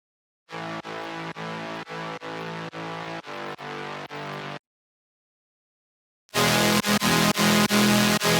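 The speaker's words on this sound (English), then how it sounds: "on top of this respace, I have like some chord synths which sound like this" Chord synth stabs from an electronic dance track, a steady run of evenly spaced rhythmic chords, then a gap of silence before a brighter, louder, fuller section of repeated chords returns.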